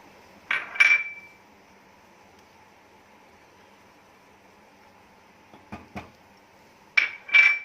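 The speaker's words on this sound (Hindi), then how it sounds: "इसको फिर लगातार स्टर करते रहेंगे" A metal ladle clinks and scrapes against a pot of milk simmering with condensed milk, nutmeg and cardamom for basundi: a pair of close clinks at the start, a softer pair midway and a louder pair at the end, with near silence between.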